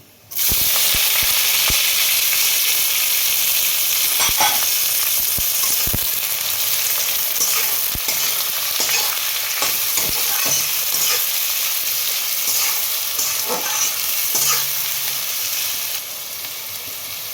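Dried red chillies and onions fry in hot oil for a Kashmiri-spiced mutton dish, giving a loud, steady, close sizzle with scattered clicks of stirring throughout, no one talking.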